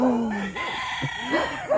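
A rooster crows among a small flock of backyard chickens on a rural Philippine homestead beside a vegetable garden, with clucks and calls rising and falling at close range and no talking.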